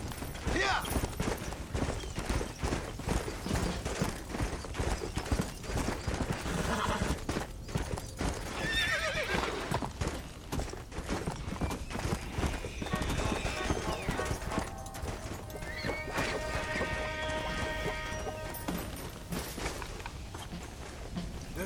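Horse hooves clip-clop steadily in the Red Dead Redemption video game, a continuous rhythmic pounding with occasional neighs, while people talk over it throughout.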